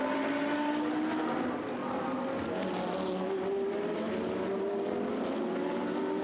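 Lamborghini Super Trofeo race cars at the Nürburgring pass with a steady, rising engine drone, held close and continuous without any talk.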